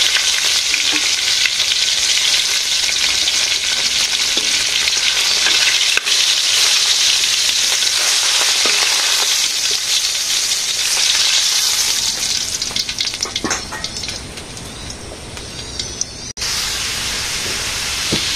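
Potatoes fry in a pan in a village kitchen, a steady, loud sizzling hiss with occasional crackles and stirring scrapes running throughout, easing slightly toward the end.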